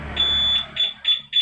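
LUMINOS A2 alarm at sound level 3 gives one long electronic beep followed by three short, evenly spaced beeps, loud and close by.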